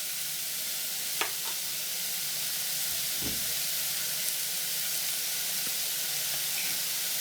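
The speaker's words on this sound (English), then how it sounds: "So I'm going to add my chopped onions. My chopped onions first." Chopped onions frying in corn oil for a sweet tomato sauce, giving a soft, even sizzling hiss close by with a couple of light utensil clicks, no voices.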